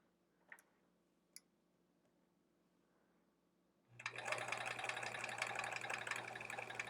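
After a few quiet clicks, a sewing machine starts up close and stitches quilt sampler pieces in one continuous, loud whirring run.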